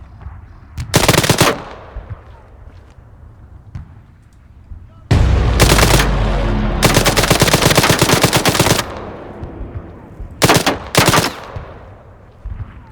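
Automatic gunfire in Arma 3: a short burst early, then a long heavy stretch of rapid shots with booming low end, and two more sharp bursts near the end, loud and close.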